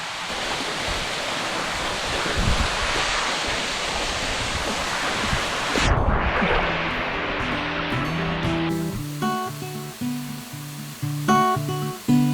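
Steady, loud rush of a waterfall on Koh Chang island, Thailand, roars for several seconds, then gives way to music that plays on to the end.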